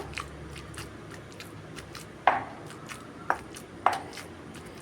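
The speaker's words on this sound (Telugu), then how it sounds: "మొత్తం కలిసేలాగా దంపుకోవాలండి" Pestle strikes in a stone mortar crushing brinjal and tomato chutney: three sharp, close thuds spaced about a second apart over low kitchen background noise, with no talking.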